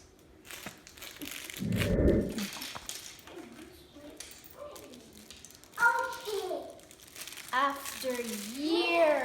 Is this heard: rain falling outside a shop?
no